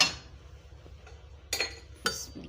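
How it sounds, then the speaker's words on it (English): A lid lifted off a covered pot of khara masala biryani after slow cooking on a low flame gives two short metallic clinks about half a second apart, close and moderately loud over a quiet kitchen. "After 15 minutes I am removing the lid."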